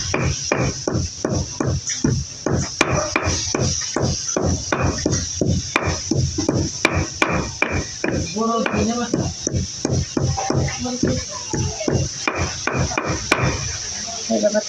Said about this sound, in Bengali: তারপর আমি ধনিয়া পাতাগুলো বেটে দেবো, ছেঁচা দিয়ে দেবো।